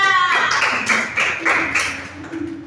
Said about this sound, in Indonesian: Kita tepuk tangan untuk kita.